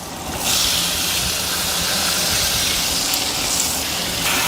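Cut potatoes tipped into hot oil in a large kadai, setting off a loud, sustained hiss of sizzling that starts abruptly and stays steady throughout.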